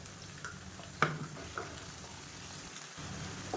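Ginger garlic paste frying with sautéed onions in a pan for a raw banana curry, a soft continuous sizzle with an occasional stirring knock, fairly faint and alone.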